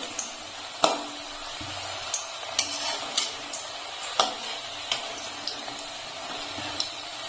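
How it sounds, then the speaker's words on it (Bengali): Papad pieces frying two at a time in hot oil in a wok over a low flame, a steady soft sizzle broken by sharp crackles and pops at irregular intervals, close and fairly quiet with no talk. "আমি দুটো করে ভেজে নিচ্ছি"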